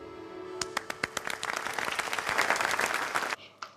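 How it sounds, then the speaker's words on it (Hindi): Audience applause breaks out in a drama scene, starting with a few scattered claps, then swelling into dense, sustained clapping from a crowd before cutting off abruptly, with a brief faint trailing clap. "उसी के ताली बजाने पे सबने ताली बजाई है"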